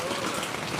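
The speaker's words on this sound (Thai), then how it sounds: "ฝนตก" Heavy rain pours steadily on surfaces at a rural house during the rainy season, making a dense, even hiss throughout a very brief moment.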